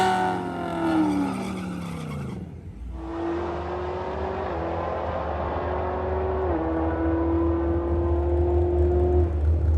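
A supercharged 2024 Ford Mustang GT Roush makes a drag racing pass: a whining engine climbs, cuts off briefly with a tire chirp, then pulls hard through sustained full-throttle gear changes with a rising supercharger whine.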